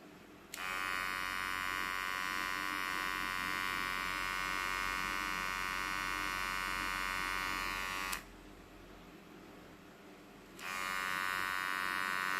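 A VGR V952 electric hair trimmer, running at 5,500 RPM, gives off a close, steady buzzing hum. It stops for about two seconds and then starts up again.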